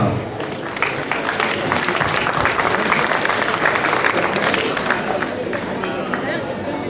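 Applause at a gastronomy fair awards ceremony in Le Mée-sur-Seine, congratulating pastry contest winners; steady clapping from a crowd for several seconds, mixed with crowd chatter throughout.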